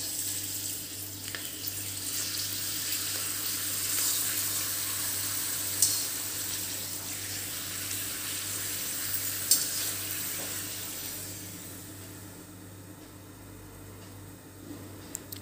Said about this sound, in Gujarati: એમાં આપણે પાપડ તળી લઈશું.